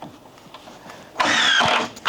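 A screw gun whirs briefly as it drives a screw into a Hebel panel on a house build, a short loud burst after a few light taps, with a second burst starting right at the end.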